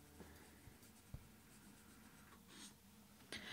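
Quiet scratching of a pencil on paper held in the left hand, soft irregular strokes with occasional taps, close and faint with no talking.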